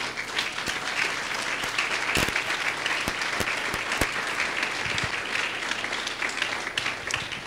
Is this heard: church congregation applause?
yes